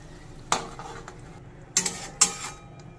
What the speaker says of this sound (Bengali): এবার নেড়ে ভালো করে মিশিয়ে নেব